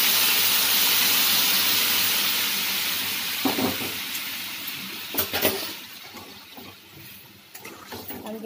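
Hot water poured into poppy seed paste frying in a pan sets off a loud rushing hiss that slowly fades, broken by a few short clatters toward the end.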